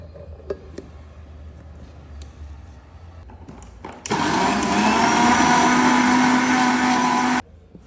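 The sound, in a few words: electric blender blending curry ingredients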